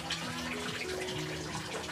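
Hot water being poured in a steady, continuous stream, used for a second pressing of grated coconut to draw out more coconut milk, with no talking over it.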